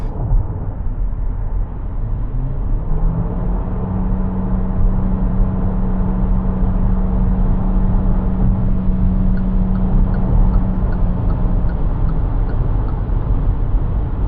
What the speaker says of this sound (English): Now I'm gonna speed up.